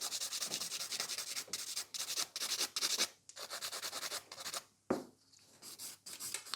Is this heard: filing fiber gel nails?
yes